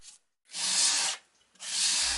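Wood stain being rubbed by hand onto a delicate wooden clock door frame, two sustained hissing strokes of cloth on wood, close and moderately loud, separated by a short pause.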